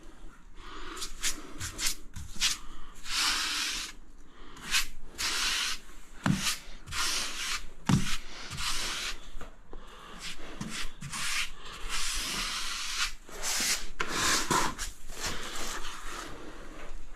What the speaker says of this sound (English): Try and wipe off as much excess as you can, or you'll use twice the amount of grout.